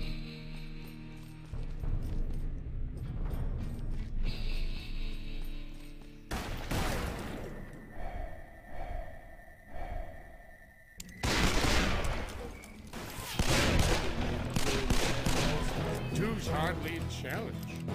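Sniper and rifle gunfire in a Call of Juarez Western shootout, with repeated loud cracks and dense volleys over game music and effects, broken by short gaps and a muffled stretch, under intermittent voices.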